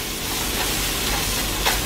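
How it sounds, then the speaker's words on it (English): Ham fries in an oiled pan on lowered heat, giving a steady close sizzle and hiss, with a faint stir or scrape near the end and no talk. "once this ham starts frying, as you guys see, once it starts frying"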